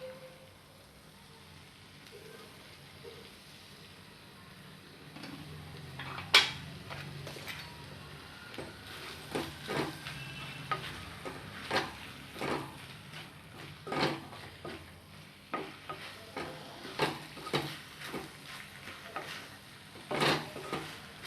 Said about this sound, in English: Now I'm going to add boiled pasta.